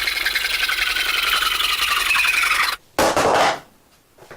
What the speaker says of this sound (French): je peux l'achever avec une scie japonaise comme celle-ci